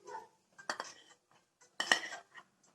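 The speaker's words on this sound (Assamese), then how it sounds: "অকণমান সময় এনেকৈ লৰাই থাকিম নাৰিকলখিনি দি।" A spoon stirs grated coconut into boiling milk in a pan, two distinct bursts of metallic scraping and clinking with quiet gaps between.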